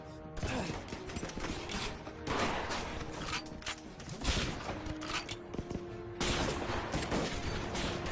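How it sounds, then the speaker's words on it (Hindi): Heavy gunfire crackles continuously, rapid dense bursts of shots rolling on with booming impacts and a dull mechanical rumble underneath. "गोलियां चलाता ना मेरे भाई"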